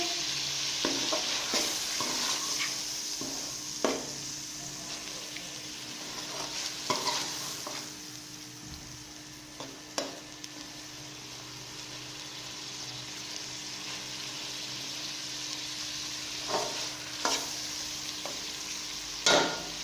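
Goat brain bheja fry frying gently over low heat in a pan, a steady soft sizzle with scattered scraping clicks of a spoon stirring it every few seconds, close and alone with no voices.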